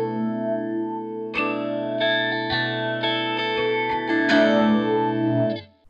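An electric guitar runs through a Matthews Effects Chemist atomic modulator with the phaser resonance turned up high. Sustained chords and notes swirl with a strong, resonant sweeping phase, close and moderately loud, with no talking.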